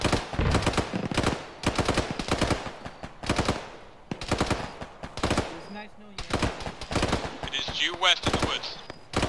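Automatic and single gunshots ring out in repeated bursts during an Arma ShackTac squad firefight, loud and close with short pauses between volleys, alongside occasional voices.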